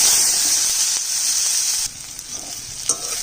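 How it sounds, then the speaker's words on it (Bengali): Chopped onion hits hot oil already seasoned with a dried red chilli and nigella seeds, making a loud, hissing sizzle that fades after a couple of seconds into softer frying with a few clinks. "এখানে 2টো পেঁয়াজ কাটা আছে, কাটা পেঁয়াজটা দিয়ে দিচ্ছি।"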